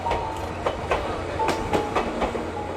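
A Choshi Electric Railway train passes beside cabbage fields, its wheels clicking in a regular clickety-clack rhythm over rail joints, close and steady with a faint tonal hum beneath.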